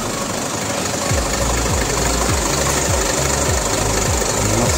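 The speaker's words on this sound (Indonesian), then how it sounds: "Mesin Hino FM280 yang terbaru ini" Hino FM280 diesel engine of an Adiputro Jetbus 5 intercity coach running, a steady loud low rumble with a rhythmic throb pulsing about once per half second throughout, no talk.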